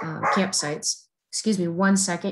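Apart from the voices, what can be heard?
standard poodle barking in background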